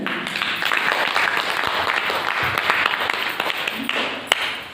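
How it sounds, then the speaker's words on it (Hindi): Audience applause fills a Bihar government training session on a new portal, a sustained, dense clapping from a large room that holds steady throughout with a few sharper individual claps near the end. "चाहेंगे एक बार जोरदार तरीके से फिर से ताली हो जाए"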